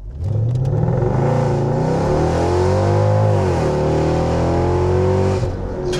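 A Mercedes-Benz CLS 55 AMG engine revs loudly up close, its tone climbing in pitch and then easing back with a harmonic-rich roar, heard alone without talk.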